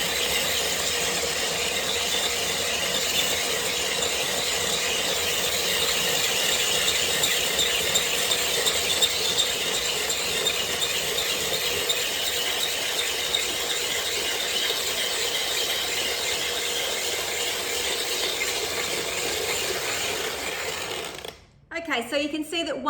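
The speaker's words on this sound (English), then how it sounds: "turn it to speed 10. So this is a nice, fine, icy, snow-like shave." An ice shaver machine running at speed 10 shaves an ice puck into fine snow-like ice, giving a loud, steady whirring grind with a high squealing edge that continues for about twenty seconds before cutting off abruptly near the end.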